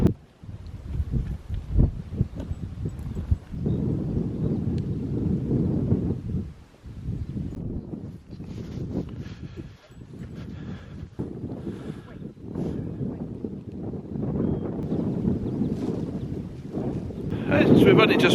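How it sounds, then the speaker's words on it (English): Wind gusting across an open hill in the Scottish Borders, a steady low roar with buffeting pulses against the microphone that swells and eases, with a voice talking over it. "It's windy."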